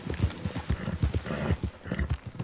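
Horse hooves clip-clop in a video game, a quick, steady trotting rhythm close by with faint background voices.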